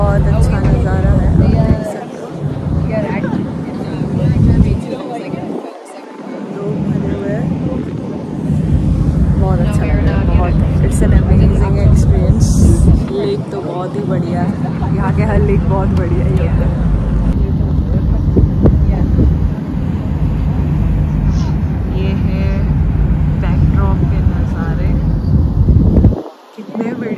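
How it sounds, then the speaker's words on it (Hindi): A catamaran cruise boat on Lake Lucerne gives a steady engine and water drone with wind buffeting the microphone throughout, while a voice talks over it. "Catamaran cruise ride चालू हो गई है। 1 hour की है."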